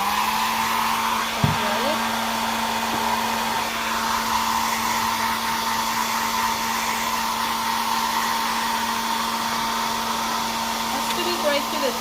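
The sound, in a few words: hair dryer drying paint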